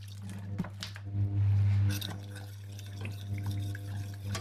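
Water poured into a pot of chicken curry gives a soft sloshing, bubbling splash over a steady low hum, strongest in a brief burst early on.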